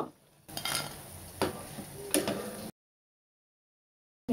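Yardlong beans being fried crisp in a pan, a snack recipe: a close, moderate sizzle with scraping stir and utensil clinks for under three seconds, then silence.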